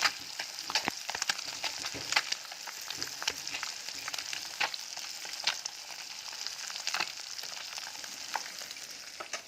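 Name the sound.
small fish frying in oil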